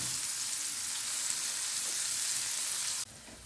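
Onion frying in oil in a pan previously used for fish, a steady close hiss of sizzling that drops sharply in level near the end.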